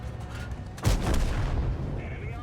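A heavy tank cannon fires in a video game with one sharp, booming shot, followed by a rumbling tail and steady engine and background noise.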